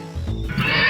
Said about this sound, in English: That's just a horse neighing.